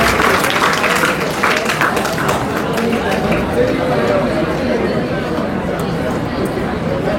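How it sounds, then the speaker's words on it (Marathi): Loud, sustained applause from an audience at a ceremony honouring successful tenth-grade board exam students, steady dense clapping filling the whole stretch with crowd murmur underneath. "चतुर्थ क्रमांक हिच्यासाठी जोरदार टाळ्या उद्या."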